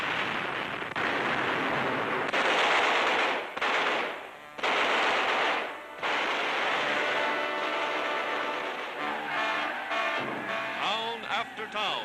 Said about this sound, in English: the British 8th Army blasting their way to Tunis.